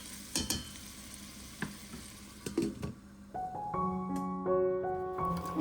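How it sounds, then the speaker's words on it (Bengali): Onions fry in a pan for a chicken curry and are stirred, with a few sharp spoon scrapes and knocks at first, then a quieter sizzle with ringing tones toward the end. "পেঁয়াজটা দিয়ে আরও একটু নাড়াচাড়া করে ঢেকে রেখে দেবো।"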